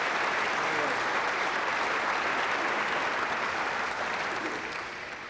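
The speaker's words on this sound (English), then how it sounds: "Give him a round of applause there" A live audience claps loudly and continuously at a snooker comedy show with Dennis Taylor, a dense, even roar of applause that holds for several seconds and then begins to fade toward the end.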